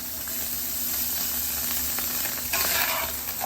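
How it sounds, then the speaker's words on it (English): Ground beef and vegetables sizzle steadily in beef and bacon fat, a loud, continuous close-up frying hiss with a brief surge near the end. "These vegetables and this ground beef has been cooking in that beef and bacon fat for a long time."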